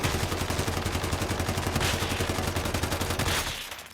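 Rapid automatic gunfire rattles loud and continuous for several seconds before trailing off, shots from a purple SCAR rifle in a video game.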